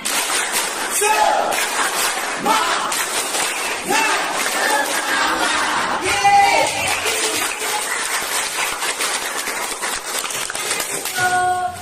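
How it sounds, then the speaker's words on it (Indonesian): A school class chants the spirit-clap routine together during an economics lesson: loud massed young voices shout in unison while rhythmic clapping runs underneath, a continuous, energetic crowd sound from start to finish. "Oke, tepuk semangat."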